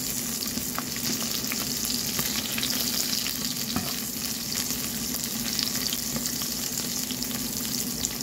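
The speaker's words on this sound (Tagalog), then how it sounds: "Antayin lang natin mag-cook yung luya, guys. Ilalagay natin yung sibuyas." Ginger and onion frying in a pan for a shrimp dish, giving a loud, continuous sizzle with faint scraping from stirring, close up and without talk.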